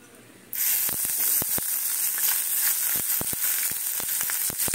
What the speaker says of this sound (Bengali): তেলটা একটু গরম হয়ে এসছে। এবারে দেব আদা